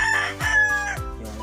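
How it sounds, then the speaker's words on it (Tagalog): Native chicken rooster crowing close by, a single harmonic call with a rising and falling contour, alone without voices. "pag may alaga kayong mga ganitong manok na native"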